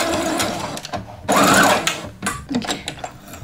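A sewing machine stitches close to the edge of tiny otter plush ears, running in short, uneven bursts with one longer, louder run in the middle, close-up and with no talking.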